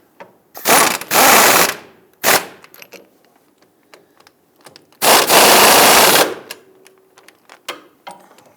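A hand ratchet snugs down a front lower control arm bolt on a 2000-2006 Toyota Tundra, giving two loud, close bursts of rapid clicking separated by a short click and quieter taps.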